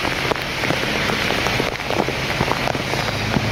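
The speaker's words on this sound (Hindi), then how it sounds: "बहुत तगड़ी वाली बारिश हो रखी है" Heavy rain pouring steadily on a flooding road in Phuket, Thailand, dense patter of drops hitting surfaces all around, loud and continuous with no voices.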